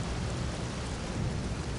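Steady, dense rain with a low rolling rumble of thunder underneath, from the stormy scenery of the horror video game Clive Barker's Undying, continuous and fairly loud throughout with no voices.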